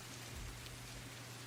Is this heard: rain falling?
yes